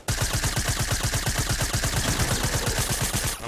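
Rapid automatic assault-rifle fire in Fortnite Battle Royale, a sustained fast rhythmic burst of loud close shots lasting a few seconds before stopping abruptly.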